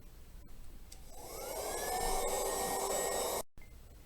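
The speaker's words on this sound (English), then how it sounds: "So now it's time to take out the blow dryer again. We're going to turn it on, keep it moving until it's dry to the touch." A handheld blow dryer drying a freshly painted canvas, its whine rising as it spins up and then holding a steady airy roar for a couple of seconds before abruptly switching off.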